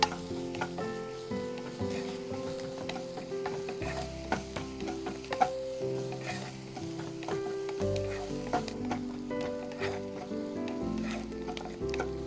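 Onions sizzle steadily in a hot pan while being stirred toward pink, with a continuous frying hiss, occasional utensil scrapes and light clinks, and a musical backing running throughout; no one speaks.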